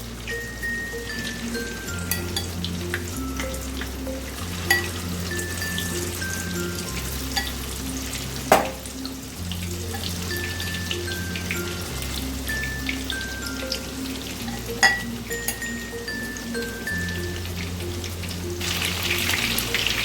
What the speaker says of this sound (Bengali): এবার সেকেন্ডবার আমি চিকেনগুলোকে সব দিয়ে দিচ্ছি একই রকমভাবে আমি ফ্রাই করে নেবো